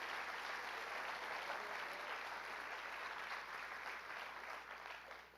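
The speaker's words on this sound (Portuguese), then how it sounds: "aplauda bem forte esse Deus" A church congregation applauds during a worship service in one continuous wash of clapping. It sounds moderately distant and fades slightly at the end, with no voices over it.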